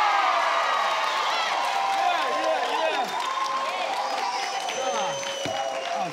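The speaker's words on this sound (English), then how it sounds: "They're clapping again." A studio audience at the Family Feud Africa game show claps and cheers, a dense crowd roar with whoops, while excited voices talk loudly over it.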